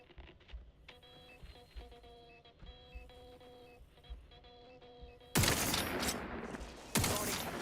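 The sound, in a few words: gunfire in video game Outer Worlds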